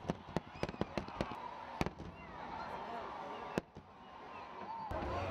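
New Year's Eve fireworks burst over Cape Town's waterfront on a rainy night, with rapid sharp cracks and booms in irregular clusters over a continuous crowd murmur and a reporter's voice.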